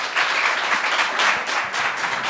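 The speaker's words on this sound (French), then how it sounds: "merci à tous les 4, on peut vous applaudir." An audience applauds four presenters at a project results event, with steady, dense clapping sustained throughout at fairly even loudness.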